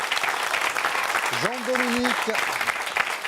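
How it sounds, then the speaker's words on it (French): Crowd applause at a football club gathering, steady clapping throughout while a voice briefly speaks over it midway. "Je vous demande de les applaudir, s'il vous plaît."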